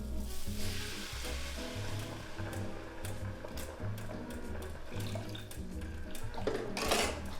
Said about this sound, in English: I'm going to start to add some of the homemade stock I've made